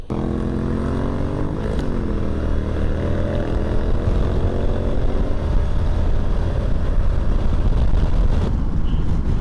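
A Moto Guzzi Stelvio motorcycle (2024-25 model) on the move: a loud, steady engine drone with wind rush throughout, its pitch dipping and rising briefly early on before settling.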